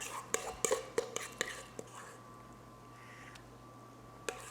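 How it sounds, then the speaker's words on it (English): Arugula stirred with olive oil in a bowl for ricotta toast: a quick burst of light clinks and scrapes from utensils, then a quieter stretch with a steady low hum and one last soft tap. "I just kind of like to give it a little mild stir with some of the olive oil"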